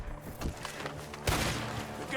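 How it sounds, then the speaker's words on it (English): Bursts of gunfire from a barn in Red Dead Redemption 2, a ragged cluster of shots in the first half and a heavier blast after the midpoint, under a noisy game backdrop. "The gunshot coming from that barn!"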